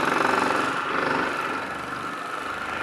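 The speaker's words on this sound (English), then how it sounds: "Now this orbital, it'll take out swirls and scuff marks." An orbital polisher runs continuously on car paint, a steady buzzing hum with a rapid pulsing rhythm close to the microphone and no voice over it.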